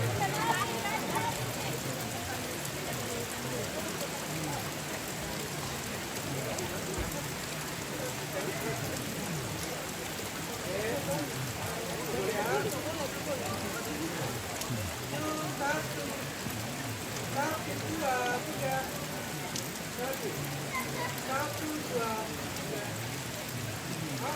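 Steady rain patters on surfaces outdoors at a Toraja traditional ceremony at a tongkonan, a dense continuous hiss with a crowd murmuring and voices talking throughout.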